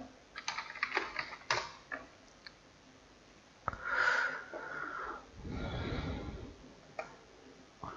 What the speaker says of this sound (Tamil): F11 ப்ரெஸ் பண்ணுறேன்.